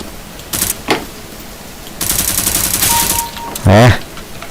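Gunfire in Counter-Strike: Global Offensive on the Dust2 map in a deathmatch, with short bursts of sharp shots, a longer rattling volley, and a final loud burst, all close and punchy.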